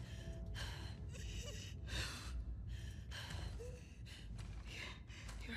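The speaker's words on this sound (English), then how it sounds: "Your breathing's worse." Labored, ragged breathing of a wounded character in The Last of Us Part II, a series of heavy gasping breaths in uneven rhythm over low ambient rumble, faint and close.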